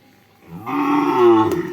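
A cow, one of a pair of thin cattle brought in for sale, lets out a single loud, drawn-out moo close by, with no talking around it.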